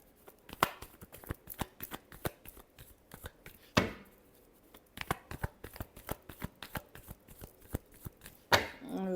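Tarot cards are shuffled by hand in quick, crisp riffling clicks, close up and continuous, with a couple of heavier snaps as the deck is squared.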